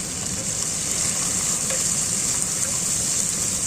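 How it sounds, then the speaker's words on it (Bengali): Onions fry in hot oil in a pan for a low-spice vegetable biryani, giving a dense, even sizzle up close with faint stirring underneath and no talking. "এবারে পেঁয়াজগুলো ভালো করে ভাজতে হবে,"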